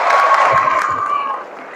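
A group of pesantren students breaks into brief applause and cheering, a burst of clapping and shouted voices that fades after about a second and a half.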